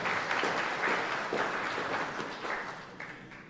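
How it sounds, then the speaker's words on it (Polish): An audience at a live recitation contest in Chmielno claps steadily, a dense, sustained round of applause at moderate distance that tapers slightly toward the end. "No i też będzie brawa."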